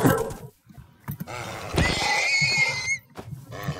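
A Minecraft video game horse neighs once in a drawn-out, whinnying cry, surrounded by short game noises.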